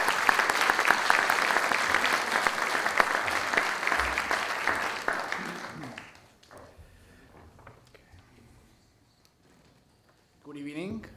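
An audience applauds to welcome Governor Sanchez at a public policy talk, with steady, full clapping for about six seconds that then tapers off into quiet room noise, a few scattered sounds, and a brief voice near the end.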